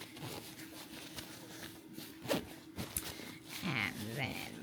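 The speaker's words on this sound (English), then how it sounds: "to get them to compress, there is a second zipper here" Compression zipper on a fabric packing cube being drawn closed, a run of dry ripping rasps with a couple of sharper tugs, close and moderately loud, with someone talking over it.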